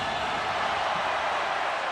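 Crowd at a Spain v Australia under-17 basketball quarter-final, a dense, steady roar of cheering filling the arena without a break.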